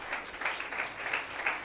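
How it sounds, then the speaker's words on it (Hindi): Applause for a speaker at a church meeting, a faint, short burst of clapping from a small audience that swells and dips in uneven waves, with no talking over it. "भाई के लिए तालियां बजाएं।"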